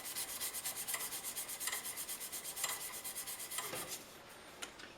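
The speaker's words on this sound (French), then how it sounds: "je prends des petits bouts de restant de mes papiers noirs et je le fais sur le sens de la longueur" Hand sanding a wooden pen blank lengthwise with small scraps of black sandpaper, a quick rhythmic rasping of back-and-forth strokes that are close and steady, then softer near the end, with no talking.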